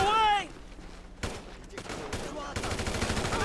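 Bursts of automatic gunfire from a GTA V shootout, rapid and loud, opening after a short synthetic tone and building into sustained rattling volleys near the end, with excited player voices talking over the shots.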